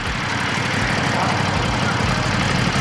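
A 2021 Ducati Scrambler Desert Sled motorcycle runs close by, its engine holding a steady, throbbing idle rumble with low, even pulses throughout.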